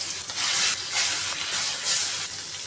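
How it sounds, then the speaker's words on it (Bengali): A few pieces of fish frying in hot oil in a pan sizzle loudly and steadily, with the hiss swelling in several waves as they are stirred or turned. "সবগুলো মাছ একসাথে ভাজা যাবো না, আমি এই কয়েক পিস ভেজে নেই"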